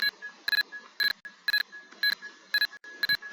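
A harsh, distorted fire alarm from a Roblox game pulses in short repeated beeps, roughly twice a second, loud and close with no talking.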